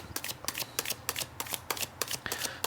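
Tarot cards are shuffled by hand in a quick, steady run of soft riffling slaps, close and fairly quiet, with no voices.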